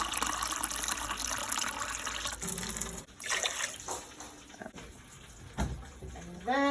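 Tap water runs into a cooking pot of rice in a home kitchen, a steady splashing gush for about three seconds, then broken pouring and light clatter close by.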